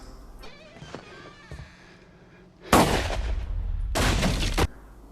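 Two shotgun blasts from the horror film Martyrs, each a sudden loud roaring burst of about a second, following quieter film sound and clicks.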